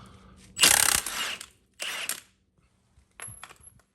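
An impact wrench comes off the wheel nuts of a 2004 Polaris Sportsman ATV during a rear CV shaft replacement, with two short loud bursts of rattling hammering close by, a pause, then a third shorter burst.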